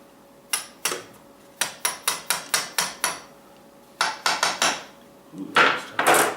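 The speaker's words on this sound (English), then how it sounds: "I'm going to put a carriage bolt through each of these legs on the bottom here" Carriage bolts being fitted through the bottoms of wooden chair legs, with sharp knocking taps in quick bursts, close and crisp, alone without talk.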